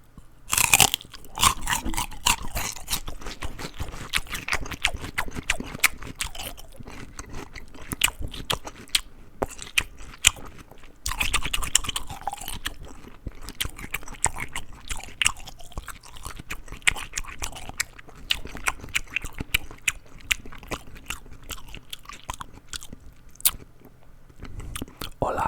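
Raw celery gets crunched and chewed right at the mic in loud, crisp, rapid bites and wet chewing, with soft whispered speech drifting in at moments.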